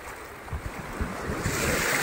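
Sea waves wash and roll in continuously with a low surging rumble and gusts of wind buffeting the microphone, no voices.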